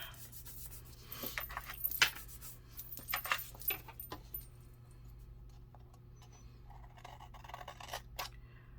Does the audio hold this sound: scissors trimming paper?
yes